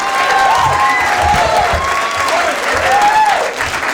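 Applause fills a comedy club after a comedian signs off, a loud, sustained wall of clapping and some cheering from the crowd, with a voice briefly heard through it and a faint wavering tone above.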